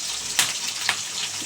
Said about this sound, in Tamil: நல்லா வெங்காயம் வதங்க நல்லா வதக்கும்